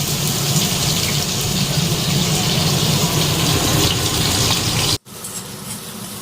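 Finely chopped onion fries in hot oil in a pan, a loud continuous hissing sizzle that breaks off for a moment near the end before resuming.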